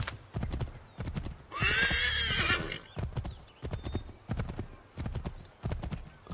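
A horse in Assassin's Creed III trots with a steady, loud clip-clop of hooves, broken by a bright, drawn-out neigh near the middle, with no talk over it.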